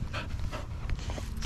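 A young puppy panting rapidly and close, with short breathy bursts and faint whimpers in a steady rhythm.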